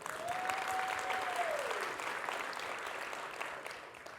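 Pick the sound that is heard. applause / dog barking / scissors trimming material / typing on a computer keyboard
applause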